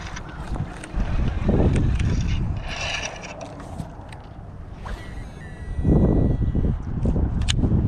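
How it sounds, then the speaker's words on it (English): Fishing reel being cranked to retrieve a spinnerbait outdoors by water, a steady mechanical winding whir with rougher bursts and splashy noise, fairly close and alone without talk. "So I'm just going to chuck and wind the spinnerbait"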